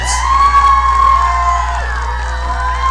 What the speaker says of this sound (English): The small crowd that's gathered around the court starts cheering loudly once more.